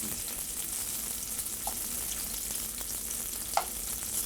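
Guanciale fries in a pan with a steady, faint hiss, with an occasional soft pop or stir rising briefly above the sizzle.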